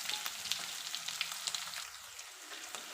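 Cloves, garlic and chopped onion sizzle steadily in a hot pan, a continuous bright frying hiss with small crackles and pops throughout, close and alone with no voices.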